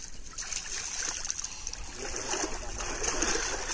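Water flows and splashes steadily through a channel cut between field bunds on a Konkan village farm with paddy and finger millet crops. The gurgle stays close and continuous, with small spattering bursts throughout.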